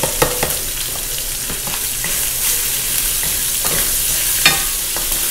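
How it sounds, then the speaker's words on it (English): Liempo (pork belly) and onions frying in a pan with a little oil, a loud, close, continuous sizzle broken by frequent sharp spatula scrapes from nonstop stirring. "Hayaan po nating maluto pa yung liempo with the onions as I continue cooking it and stirring it non-stop."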